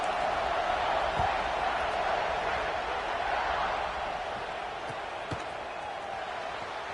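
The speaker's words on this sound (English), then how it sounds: "this crowd is buzzing after that last score" Steady crowd murmur and buzz fills a college football stadium in a video game after a touchdown, a continuous even roar with a few faint thumps, heard alone without talk.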